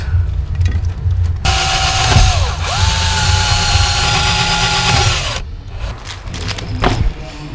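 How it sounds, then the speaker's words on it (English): A loud power drill whines steadily for about four seconds, drilling mounting holes for a car amplifier, its pitch dipping briefly as it bites, with clattering handling noise before and after. "So now I can drill out those two holes and mount them with these."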